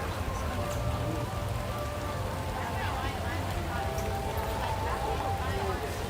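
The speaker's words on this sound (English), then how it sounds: "It doesn't help that it's raining as well." Steady rain falls outdoors at a theme park flower festival, a continuous broadband patter with faint distant background noise throughout.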